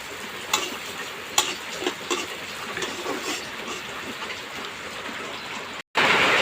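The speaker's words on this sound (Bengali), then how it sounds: "হালকা করে ভাজা নেবো" Sizzling of beef frying with scraping stirring strokes, irregular clatters of a utensil against the pan, continuous and close, then a brief cut.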